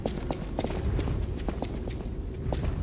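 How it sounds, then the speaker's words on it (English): Heavy stomping footsteps in a video game, a steady run of thudding, clopping impacts repeating at a brisk irregular pace, fairly close over a low rumbling background. "Sound like somebody was stomping."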